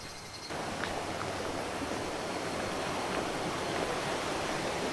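A waterfall along a mountain trail near Seto City, Japan gives a faint, steady rush of falling water, an even distant hiss that holds unchanged throughout.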